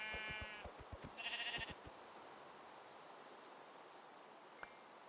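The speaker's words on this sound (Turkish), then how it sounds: "Aa koyun." Several Minecraft sheep bleats, a wavering nasal call followed by another, over soft steady background noise and a few low thumps.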